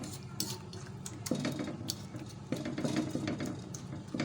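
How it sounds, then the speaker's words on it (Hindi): Peeled tomatoes and garlic mashed together in a pot for a spicy tawwa chutney, giving a steady run of close, wet squelching and scraping with repeated clinks of the utensil against the pan. "अब हम इसको मैश कर लेते हैं अच्छी तरह से।"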